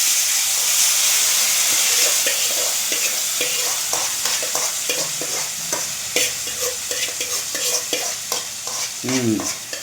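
Loud sizzling and hissing as tomato chutney is tipped into a hot oil tempering, followed by stirring and scraping sounds in a pan.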